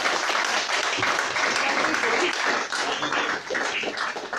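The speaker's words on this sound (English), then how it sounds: "big round of applause for that" Dense, continuous audience applause at a live fashion-and-coffee event, a steady wash of many hands clapping at once, fairly loud and sustained throughout with a few voices mixed in.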